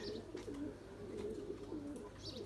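Pet pigeons coo in a steady, low rolling murmur that continues throughout, close by, with faint chirps and soft rustling mixed in.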